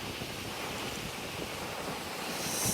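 Sea waves on the Konkan coast in the monsoon wash in as a steady, soft broadband surf roar mixed with wind, with no voices.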